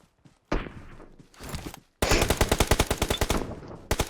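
Rapid automatic gunfire from PUBG Mobile, a loud close burst of evenly spaced shots dominating the second half, preceded by shorter scattered bursts and a brief pause.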